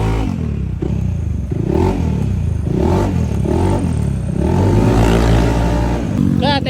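A Yamaha XMAX scooter with a freshly set-up CVT and a damaged intake manifold revs steadily and loudly, its engine drone rising and falling over several seconds with workshop clatter in the background.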